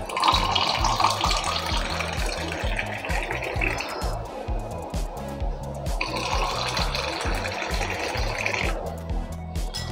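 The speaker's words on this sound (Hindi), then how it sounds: "अब इस ग्लास में हमें ठंडा ठंडा पानी ऐड कर लेना है।" Cold water pouring into a glass, a continuous splashing, gurgling stream with a steady rhythmic low patter beneath, loud and close throughout.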